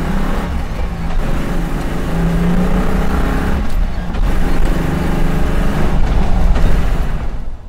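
A Land Rover Defender fitted with a Megasquirt engine management upgrade drives along, its engine droning loud and close with rising and falling revs and road roar throughout, fading out at the end.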